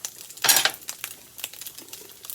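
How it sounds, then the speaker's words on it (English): A jar-opener gadget working on a jar of homemade sofrito in a home kitchen: a sharp clattering metallic crunch followed by a few lighter clicks and taps, close and otherwise quiet. "I have this cool gizmo gadget I got on Amazon to help me open jars"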